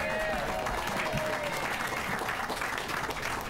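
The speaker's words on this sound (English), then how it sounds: "let's give a big round of applause for that" Crowd applause at a New Orleans tourism event, continuous dense clapping throughout with a faint tonal whistle-like sound early on and some crowd murmur mixed in.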